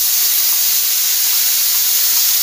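Onion paste sizzles loudly in hot frying oil, a steady close hiss with spitting crackle throughout the short stretch, left in the oil after frying katla fish pieces for a Bengali fish curry.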